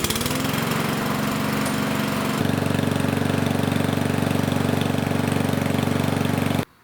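A Powermore lawn mower engine runs right after an RPM adjustment, a loud, close, steady drone that steps up to a higher, stronger pitch partway through before cutting off abruptly at the end, with no voices.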